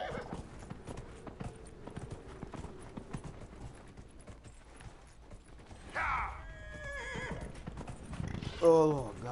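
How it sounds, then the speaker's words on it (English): In a video game, a ridden horse's hooves clip-clop steadily, joined later by a loud neigh and creaking tack, while a voice talks over the hoofbeats. "I'm on the horse, finally"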